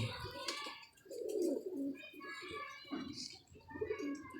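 A slate-grey pigeon at a pigeon club gives several soft, close coos in uneven bursts, with a faint voice in the background.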